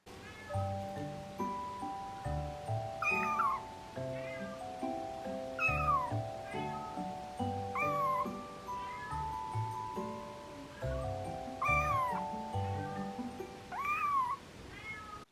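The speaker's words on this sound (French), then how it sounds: "Combien de façons de miauler le chaton a-t-il?" A kitten meows repeatedly, several distinct rising-and-falling calls spaced a few seconds apart, clear and close over soft background music.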